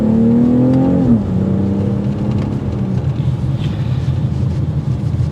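A BMW X3 M40i accelerating hard in Sport Plus mode, its engine note climbing, dropping at a gear shift, then rising again, heard loud from inside the cabin.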